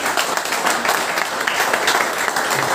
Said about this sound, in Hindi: एक बार ताली बनती है ना,